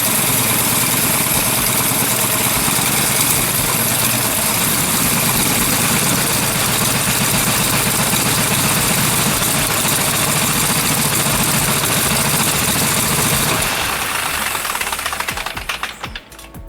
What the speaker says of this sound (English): With its 7-cylinder radial layout, twin-spark ignition, and Stromberg NA R7 carburetor, the R755 became a symbol of dependability in American skies